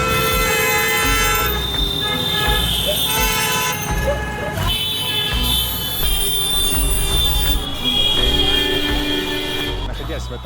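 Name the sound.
traffic honking on Indian roads, Varanasi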